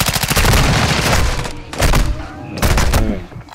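Loud, close gunfire in Call of Duty Warzone, dense rapid volleys that break off briefly, then return in short bursts.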